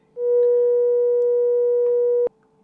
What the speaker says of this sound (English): This is a demo of the sample and hold features. I've got that same sine wave again.